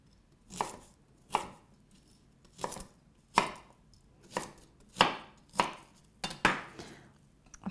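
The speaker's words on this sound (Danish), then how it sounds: "lidt pære, danske pære her, som jeg skærer i både" A knife cutting a Danish pear into wedges on a board: about ten separate crisp chopping thuds at uneven intervals, close and clear against near silence.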